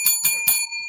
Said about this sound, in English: We have a new inappropriate bell here at Mad Hatter